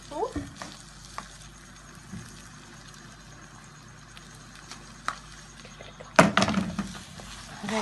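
Peppers frying in a pan with oil, a soft continuous sizzle under quiet kitchen noise, with a burst of louder crackling and a clatter near the end.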